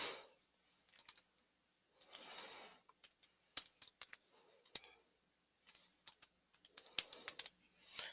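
Computer keyboard typing in CorelDRAW, with bursts of quick, close clicking keystrokes separated by short pauses and a few sharper single key taps.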